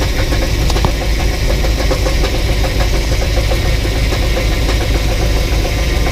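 A 1984 box truck engine running right after its first start on old fuel, with a loud, steady close-up rumble and a knocking, vibrating idle that holds without a break.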